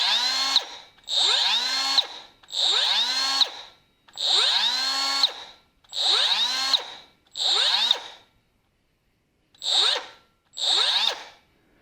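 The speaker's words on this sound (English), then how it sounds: "And now let's pull the trigger and listen to the tool." A Milwaukee M12 cutoff tool runs without load in eight short bursts, each a high whine that spins up and winds down, with a gap of silence before the last two bursts.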